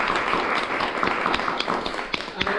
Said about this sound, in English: Now that needs a round of applause.